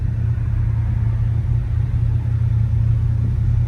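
A 1967 Chevrolet Chevelle SS 396 V8 with a 4-speed idles with a steady, deep rumble, loud and close, holding an even low throb with no talking.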